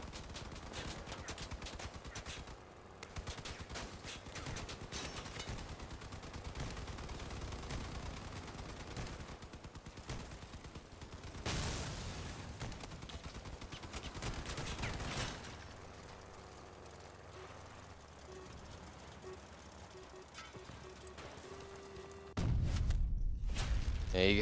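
Gunfire in the vehicle combat game Crossout, dense rapid bursts and scattered impacts running almost throughout. One heavy blast stands out midway, then the shooting eases into quieter mechanical noise before a loud final surge.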